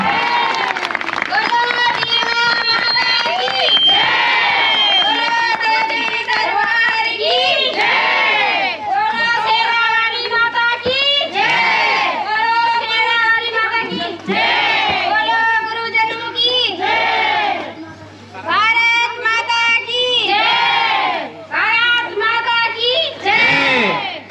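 A large outdoor crowd at a closing ceremony of a seven-day NSS camp claps and cheers loudly, with children shouting and voices rising and falling in waves throughout.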